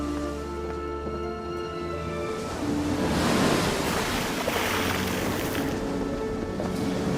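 Sea waves surge and wash around an Alexandrian sailing ship bound for Italy, a broad roaring swell that builds after a quieter, tonal opening and holds steady with wind-like noise.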